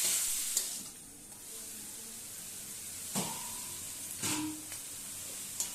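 Turmeric and spices fry in a pan with a steady, soft sizzling hiss, punctuated by a few scraping stirs; quiet and close, with no voices.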